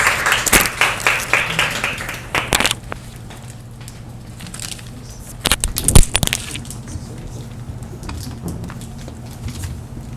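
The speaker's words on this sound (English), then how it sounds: "Please give her a round of applause." A short burst of audience applause at an academic symposium on Korean studies in the Philippines, a dense round of clapping in the first seconds, then fading to scattered claps and handling noises in a hall.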